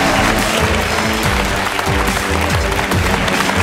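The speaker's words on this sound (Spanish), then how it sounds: "fuerte aplauso para ellos" Studio audience on a Spanish game show applauding loudly for the contestants, dense continuous clapping over upbeat background music.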